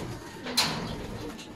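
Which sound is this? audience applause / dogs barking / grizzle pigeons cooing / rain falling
grizzle pigeons cooing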